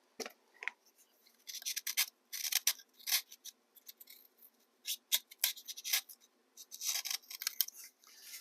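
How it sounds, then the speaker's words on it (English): Quiet, irregular scraping and cutting strokes of hand tools carving foam come in short bursts with brief pauses, close by. "Now I'll go in and carve that out a little bit more with the hand tools."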